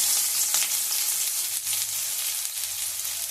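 Mustard seeds spluttering and popping in hot oil for an egg sukka, a dense steady crackle of sharp pops that stays loud and close for the whole stretch, with no talking over it.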